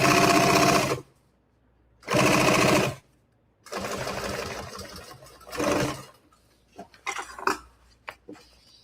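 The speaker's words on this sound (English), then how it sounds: "Sewing a custom bag." A sewing machine stitches a custom bag in quick motorized bursts of rapid needle chatter, with short pauses between runs and some light handling clatter near the end.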